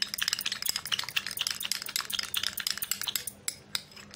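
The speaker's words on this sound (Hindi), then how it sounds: "इसको थोड़ी देर और मिक्स करेंगे।" Homemade natural serum being stirred in a small container, a rapid run of light clinking and scraping taps of utensil against vessel, steady and close with no talk.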